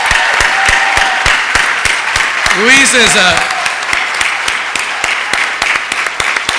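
Audience applause at an annual business and humanitarian awards event, steady clapping throughout with a voice speaking briefly over it midway.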